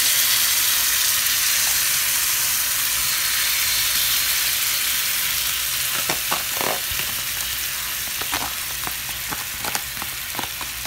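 Chicken shish tawook frying in butter in a pan gives a steady, close sizzle throughout, with sharper clinks and scrapes of stirring breaking in during the second half.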